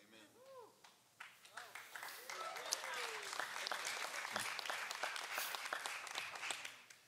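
A church congregation gives a light, scattered golf-clap applause at a sermon, sparse claps building into a soft, thin patter that fades out.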